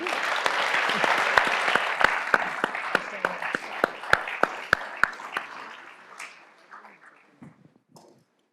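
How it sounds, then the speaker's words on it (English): An audience at a Columbia Business School centennial kick-off celebration gives a sustained round of applause, dense clapping with a few sharp individual claps standing out, fading over the last few seconds. "Let's give them a round of applause."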